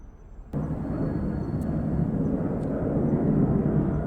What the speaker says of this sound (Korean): 비행기 소리 들리시죠?